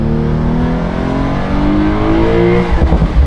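The engine of a 2025 Porsche 911 Carrera T with a manual gearbox pulls hard under acceleration, heard loud and close from inside the car, its tone rising steadily before a brief shift near the end.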